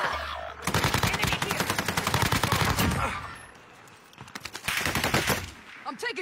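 Video game gunfire erupts in long automatic bursts, a dense rattle of rapid shots, then a brief lull before another burst of fire, with a voice speaking intermittently under the shooting.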